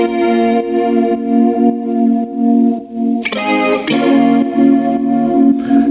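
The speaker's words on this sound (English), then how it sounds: "It's a lo-fi guitar." A pitched-down lo-fi guitar sample with a chorus-like, effected tone plays sustained, warm chords, then shifts to brighter re-struck chords partway through. It sounds steady and prominent, with no voices.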